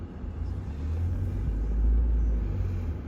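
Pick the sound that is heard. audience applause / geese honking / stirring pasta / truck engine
truck engine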